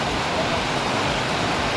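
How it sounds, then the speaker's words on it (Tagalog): Heavy rain pours down steadily and loudly on a newly built ceiling veranda, a dense, unbroken hiss that fills the whole clip with no pauses. "Nabigla lang pag ulan ng malakas"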